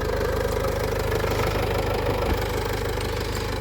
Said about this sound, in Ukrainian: двигун встановили, завели. Гарно, чітко, м'яко працює.